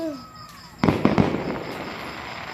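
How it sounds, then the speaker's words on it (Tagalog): A fireworks display in Tayabas, Quezon, with a rising whistle followed by several sharp bangs and crackling that fades out, heard from a moderate distance. "Firework display po."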